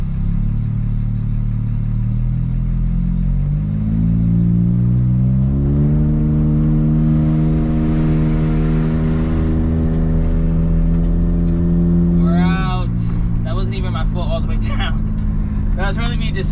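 A Suzuki Jimny JA11 engine pulls away onto the highway, its steady idle rising into a climbing rev through a gear, then a shift and renewed pull, loud and close from inside the cabin, with someone talking over the end.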